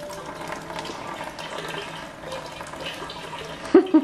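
Floodwater drains out of a flooded 2018 Audi RS3, a soft continuous trickle and splash that stays fairly quiet, followed by a couple of short knocks at the end.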